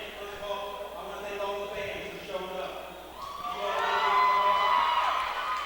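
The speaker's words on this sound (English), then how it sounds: "the people are even applauding it" Crowd noise from fans at a basketball championship game, a broad murmur that rises into louder applause and cheering toward the end, heard under commentators talking.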